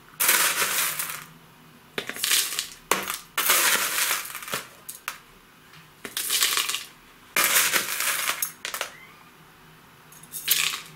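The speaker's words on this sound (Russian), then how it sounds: "Сначала насыпаю небольшое количество влажного керамзита." Loose wet expanded clay pebbles pour into a pot and rattle in several separate bursts, a gritty crunching cascade with brief pauses between pours, close by.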